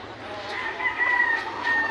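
A backyard rooster crows once, fairly faint and slightly distant, in an outdoor yard with no one talking.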